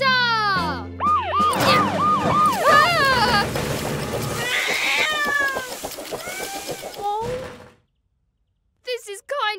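Cartoon kitten stuck up a tree meowing in a string of high, wavering cries over a music bed, followed by a near-silent gap and a short final burst.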